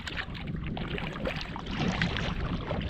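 Canoe paddle strokes swishing and dripping through calm water on Mink Lake in Algonquin, steady and close, with light wind across the microphone and no voices.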